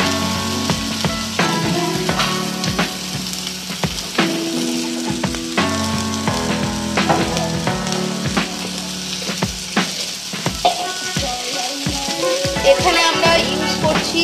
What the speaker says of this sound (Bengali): ভালো করে মশলাটাকে নাড়াতে হবে, কষাতে ভাবে কষিয়ে নিতে হবে।